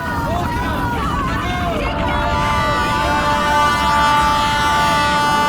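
Train passing in a horror drama scene, with a sustained tonal horn-like blare and rumbling carriages rising over a background of murmuring voices and crowd noise.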